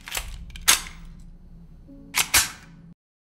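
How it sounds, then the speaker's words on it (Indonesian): Pistol gunshots in a film scene: a sharp single shot, a second a moment later, then two quick shots in succession, each loud and close with a short ringing tail. "Stacy menemukan pistol dan mengejutkan Emma dengan keahliannya dalam menggunakan"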